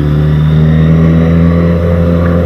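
A 1000cc sport motorcycle, a Kawasaki Z1000 or Suzuki GSX-S1000, roars loud and close at a sustained high-rev pull, a dense steady engine drone with no voices over it.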